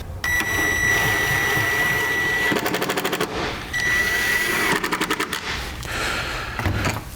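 Screws being driven back into a vehicle light housing while mounting a Roadmaster Diode 7-wire to 6-wire Flexo-Coil wiring kit, likely by power driver: two long steady whirring runs, each ending in a burst of rapid ratcheting clicks, loud and close.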